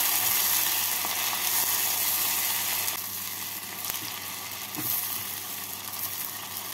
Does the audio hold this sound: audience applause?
no